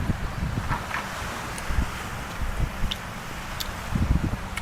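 Wind blowing steadily across Pattaya beach at sunset, a continuous broadband rush with gusty low rumbles buffeting a nearby microphone, no talk.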